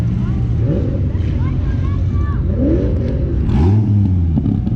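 A Dodge Viper supercar arriving at a charity car event revs loudly nearby in rising and falling engine sweeps, while excited voices shout over it.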